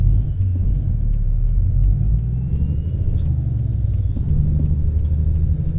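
A Peterbilt 377 truck engine in American Truck Simulator rumbles loud and steady at close range, a deep continuous drone with faint higher whines on top.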